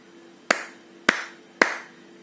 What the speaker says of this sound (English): If I clap two times, then it is